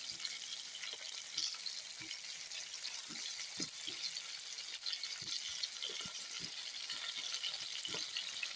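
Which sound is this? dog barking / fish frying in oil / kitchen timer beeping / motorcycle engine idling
fish frying in oil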